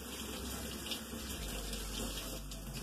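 Cold tap water runs steadily while rice is rinsed for sushi, a soft, even rushing stream that sounds faint and slightly distant, with no voices.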